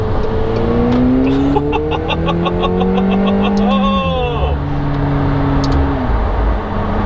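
A McLaren 720S sports car engine hums and rises in pitch while cornering, then drops back to a steady drone as the turn ends, heard from inside the cabin, loud and continuous.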